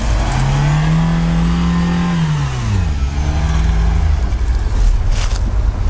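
A Lada Niva engine revs hard with the accelerator floored off-road, a loud continuous roar whose pitch holds, dips and climbs again as the vehicle strains forward.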